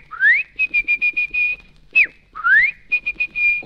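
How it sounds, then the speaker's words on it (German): Trilling whistle from a children's puppet show: a rising glide followed by a string of short, evenly spaced chirped notes, played twice, loud and clear with no talking. "Pitti kann pfeifen wie ein Trillerstab."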